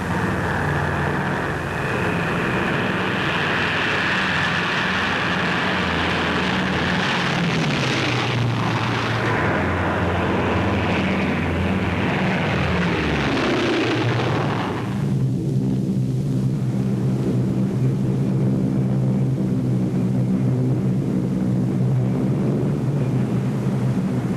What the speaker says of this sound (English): 6 drop tests conducted by a squadron of B-24 bombers of the 6th Air Force